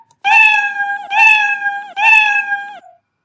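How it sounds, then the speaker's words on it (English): Three synthesized cartoon cat meows from the Scratch programming sound library, played one after another with short gaps, loud and clear with no other sound. "I'll take another block called play sound meow until done"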